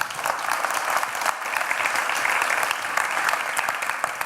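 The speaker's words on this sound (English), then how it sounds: "give him another warm applause" Warm applause from a tech event audience for a speaker, dense and steady clapping from many hands lasting over four seconds, fairly loud, with no talking over it.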